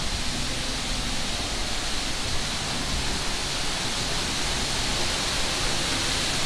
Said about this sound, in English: See if we can see the waterfall.